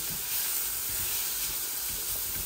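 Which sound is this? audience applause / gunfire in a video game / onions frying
onions frying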